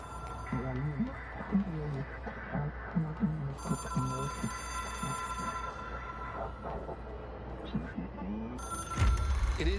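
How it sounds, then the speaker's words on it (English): An in-game telephone in Control rings with a repeated electronic bell pattern, steady and fairly clear, while someone talks over it throughout. "It is a phone."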